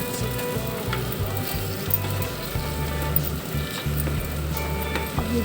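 Ginger and turmeric halwa roasts in ghee, giving a steady, close sizzle and crackle with a low rhythmic scraping of stirring underneath.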